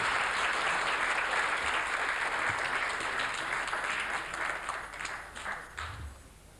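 An audience applauds in welcome for Shakuntala Devi, steady hall clapping that thins out and becomes more scattered toward the end.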